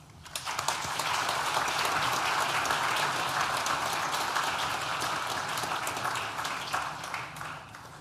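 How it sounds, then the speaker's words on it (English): Audience at a university graduation ceremony for a School of Science and Technology breaks into sustained, dense applause that swells quickly and holds steady for several seconds before slowly thinning. "Please join me in thanking them with a well-deserved round of applause"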